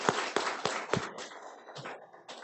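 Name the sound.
congregation clapping in welcome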